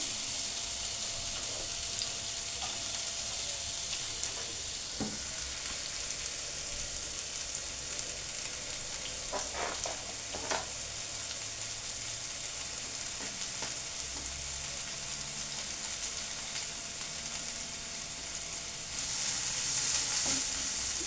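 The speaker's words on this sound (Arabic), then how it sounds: "وهنا كما كتشوفوا غادي نحط البصله هنا" Onion frying in butter in a pan, a steady, fairly quiet sizzle that runs throughout, with occasional soft clicks and scrapes of stirring.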